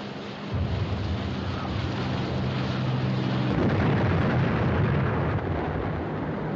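An underwater demolition charge going off in a frogmen film: a loud, deep rumbling blast that opens abruptly and then rolls on as a sustained, churning roar.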